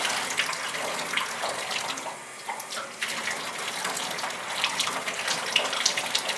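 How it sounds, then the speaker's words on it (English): Water runs and splashes steadily over a lithographic stone as it is washed off with a sponge, a continuous close hiss with small wet sloshes and a brief lull midway. "it is time to lay this aside and wash it off with the sponge"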